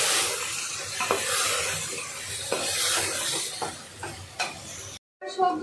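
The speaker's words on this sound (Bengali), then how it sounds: "সবজিগুলোকে দিয়ে 5 থেকে 6 মিনিট মতো একটুখানি ভেজে নিতে হবে।" Chopped vegetables for a rice-and-lentil khichuri sizzle loudly in a pan, with a spoon scraping and knocking in several irregular stirs before the sound cuts out briefly at the end.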